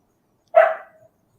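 A single short dog bark rings out once in an otherwise quiet moment, fairly close and clear, with no talking over it.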